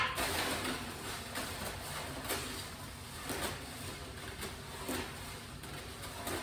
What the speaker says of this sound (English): move them around sort of in a circle on the snare drum